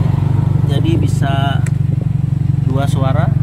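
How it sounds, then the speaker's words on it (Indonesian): A steady, deep rumbling exhaust from a Toyota Vios limousine fitted with an HKS muffler and valvetronic valve drones throughout, with a person talking over it. "saya sudah menggunakan knalpot HKS dan menggunakan valvetronic"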